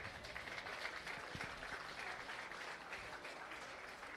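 An audience at a 4-H county dairy show applauds in a steady, even wash of clapping that sounds fairly distant and soft.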